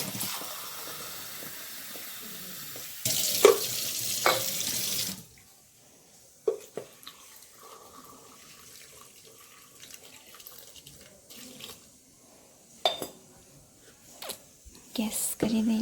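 Tap water runs steadily into a pot for boiling potatoes, a close, even rush lasting about five seconds before it stops. Quiet kitchen handling noises and faint clatter follow.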